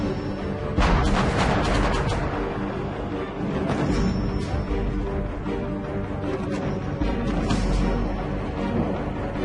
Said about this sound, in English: They hammered the remaining enemy positions in a final all-out bombardment.